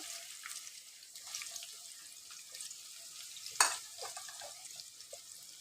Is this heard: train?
no